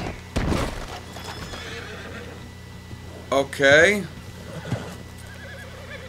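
A horse in the video game Red Dead Redemption 2 lets out a single loud, wavering whinny midway, with a few hoof clops nearby and someone briefly speaking before it.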